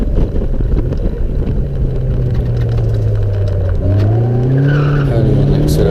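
A race car engine at a sprint event at Rushmoor roars loud and close, its pitch climbing and shifting through gear changes against wind buffeting the microphone.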